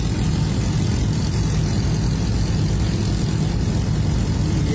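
Boat engine with a rabeta longtail drive racing on a river, a loud steady droning roar held at high revs throughout, close and continuous.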